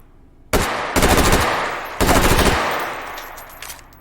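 Bursts of rapid automatic gunfire in the VR shooting game Hot Dogs, Horseshoes & Hand Grenades, three loud close volleys of about half a second each with brief gaps, then fading room tail.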